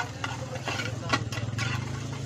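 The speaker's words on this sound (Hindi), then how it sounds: "अभी इसे अच्छी तरीके से मिलाया जा रहा है।" Spices are stirred in a hot pan for anda bhurji at an Indian street food stall, with scraping strokes over a steady sizzle and a low engine-like rumble behind.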